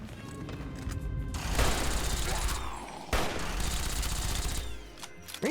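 Gunfire in the Fallout: New Vegas Lonesome Road add-on, dense bursts of shots with booming impacts in two long loud stretches broken by a short pause, voices talking faintly underneath.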